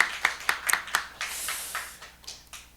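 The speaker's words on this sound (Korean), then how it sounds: "우리 다시 한번 우리 감사의 박수를" A church congregation gives a short round of clapping at a Sunday worship service, starting with a few sharp separate claps and then blurring into a soft, scattered patter that fades out.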